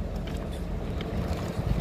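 Wind gusts across a concrete pouring site on a hot day, a steady loud rumble buffeting the microphone with no other sounds distinct.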